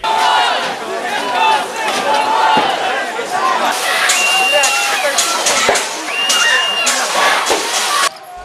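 Protesting crowd outside a stormed building on a freezing day shouting "shame" as three police officers retreat, a dense roar of many voices with rising shouted chants, loud and continuous throughout.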